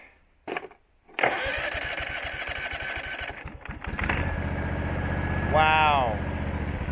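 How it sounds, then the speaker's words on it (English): An abandoned Husqvarna lawn mower engine is cranked over with a rapid rhythmic chugging, stalls briefly, then catches and settles into a steady loud idle running close by, with a short voice heard over the engine. "when you go to turn the motor over, it's moving the mower."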